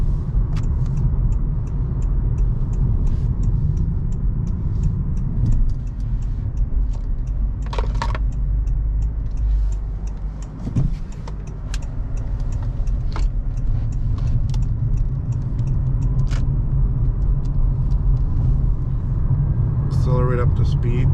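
Interior of a 2019 Honda Clarity plug-in hybrid running on battery power while accelerating, a steady low road rumble and drone throughout, with occasional light clicks and a few faint chimes near the end.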